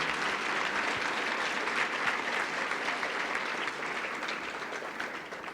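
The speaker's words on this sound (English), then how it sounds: "I want to really give Dr. Woodcock a warm applause" An audience applauds Dr. Woodcock at an ALS Association event, a sustained, even wash of clapping from a crowd that tapers slightly toward the end.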